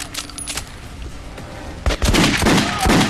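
Incendiary rounds fired in Metro Last Light, a loud burst of rapid shots near the end following quieter game noise, with a faint voice early on.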